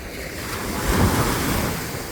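Ocean surf rolling onto a quiet beach on Kauai, a loud, steady wash of waves swelling to a peak midway, mixed with wind rumble on the microphone and no talking.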